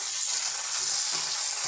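Capsicum and onions fry in a hot pan with a dense, continuous sizzle, close and steady throughout, with no voices.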